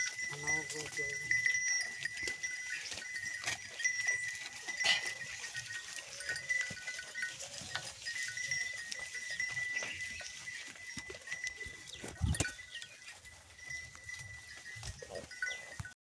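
Goats bleat now and then amid a farmyard bustle, with people talking in the background and occasional clanks.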